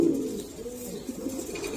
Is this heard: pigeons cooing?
yes